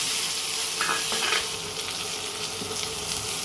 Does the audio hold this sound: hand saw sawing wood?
no